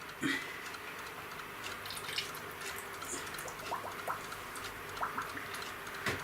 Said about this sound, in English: I'm going to start adding the antifreeze because we gotta have it.